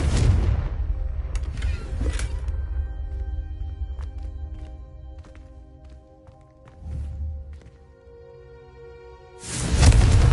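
Confringo fire spell blast in Hogwarts Legacy, a loud whooshing burst at the start, quieter rumbling and clinks in the middle, then another strong blast at the end.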